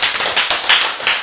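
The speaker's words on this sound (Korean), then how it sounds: "박수." A lecture audience at a Bible teaching session breaks into a brief burst of dense hand clapping, close and bright, lasting only about a second.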